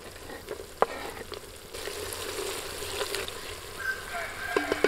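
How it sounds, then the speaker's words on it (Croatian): Onion frying in a pan with carrot just added, stirred while it sizzles: a steady close hiss of frying broken by scraping and clinks from the stirring utensil. "Nakon 20 minuta prženja luka dodajem mrkvu."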